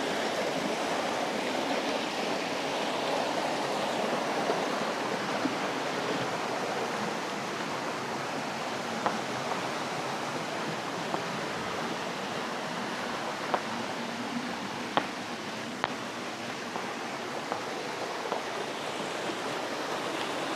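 Small mini waterfalls at Hidden Lagoon in Barangay Tua, Magallanes, Cavite give a steady, broad rush of falling water, constant and close throughout, with a few faint clicks over the wash and no talking.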